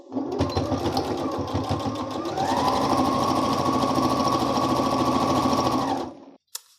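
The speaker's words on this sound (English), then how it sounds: "I'm going to top stitch along the entire bottom of my mask just to make it look nice and uniform" A sewing machine runs continuously, top stitching about a quarter inch from the edge along the bottom of a fitted fabric face mask, a steady close whir that speeds up partway through and stops abruptly near the end.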